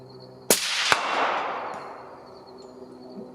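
A single suppressed shot from a Thompson Center 6.5 Creedmoor rifle at a 100-yard target, a sharp near crack at once followed by a second snap and a long fading rumbling echo outdoors.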